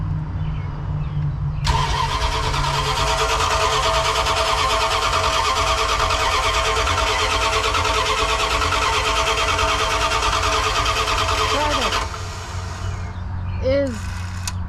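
A Dodge Ramcharger with an electric fuel pump cranks loudly and steadily for about ten seconds without catching because it is getting no fuel. It then stops, followed by a brief trailing voice or squeak.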